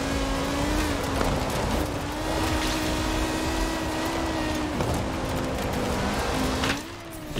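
A car engine drones steadily in Forza Horizon 4, holding a sustained tone with slight pitch shifts as it drives, loud and continuous before briefly dipping near the end.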